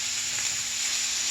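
Green peppers, celery and four strips of bacon sauteing in a pan give a steady, bright, close sizzle with a faint low hum beneath, continuous and without speech.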